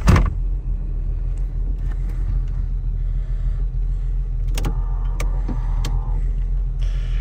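Chevrolet Omega GLS 4.1 driving slowly around a residential condominium, a steady low engine and road rumble heard from inside the car, with a few clicks and knocks in the cabin.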